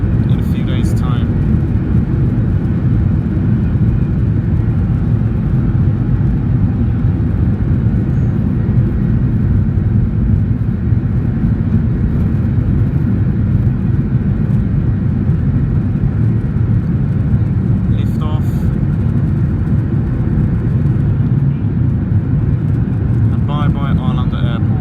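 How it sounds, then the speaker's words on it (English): A Norwegian Boeing 737-800 with winglets taxis at Stockholm Arlanda Airport, heard as a loud, steady engine rumble and roar that stays constant throughout, with no break. "that's the Boeing 737, which has just pushed back and is lining up on the taxiway"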